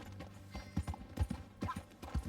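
Horse hooves in the video game Red Dead Redemption II clip-clop in a steady, uneven trot, fairly close, with no talk over them.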